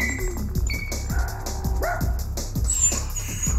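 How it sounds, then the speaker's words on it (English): A dog barks repeatedly in short, sharp bursts mixed with whining cries, fairly close, with other household noises in the background. "quit that barking"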